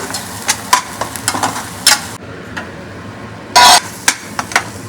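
A spiced paste for a dhaba-style paneer curry fries and gets stirred in a pan, with intermittent scraping strokes and short bursts of sizzle, close and fairly loud, with a brief quiet gap midway.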